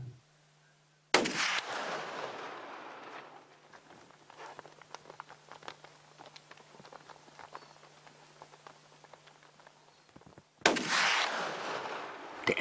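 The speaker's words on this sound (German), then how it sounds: "Der erste Schuss sitzt gut." Two sharp, loud rifle shots ring out about nine seconds apart during a water buffalo hunt, each echoing briefly, with quiet outdoor ambience and faint rustling in between.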